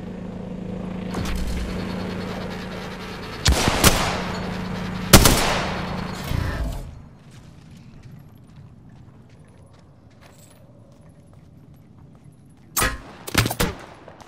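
Gunfire in Apex Legends hitting the player: a couple of heavy bursts of shots with loud impact cracks, then quieter background, then another rapid burst near the end.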